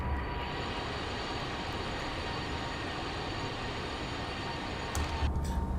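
GE CF34 jet engines of a Challenger 650 in the X-Plane 12 flight simulator. They produce a steady, loud broadband roar with a faint high whine, continuous and unbroken, briefly shifting near the end.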